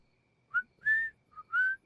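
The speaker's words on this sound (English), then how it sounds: "whistling is an excellent way to play music without using electricity" A cartoon pig whistles a short tune, four clear, close notes in an uneven rhythm with no talking.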